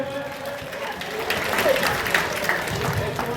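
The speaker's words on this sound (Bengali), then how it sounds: "জোরে হাততালি দিতে একবার।" An audience at a school prize-giving ceremony claps in a loose, moderate burst of applause that swells in the middle, with voices talking over it.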